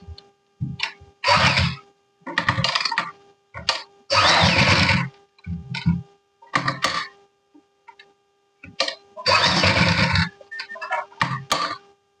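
A sewing machine stitches a fabric bag keychain in short, loud mechanical bursts of rapid clatter, separated by brief silent pauses, near the microphone.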